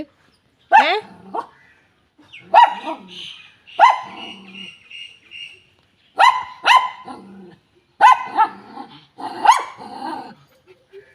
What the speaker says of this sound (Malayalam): അപ്പുറത്തെ വീട്ടിലെ പട്ടിയെ കാണാം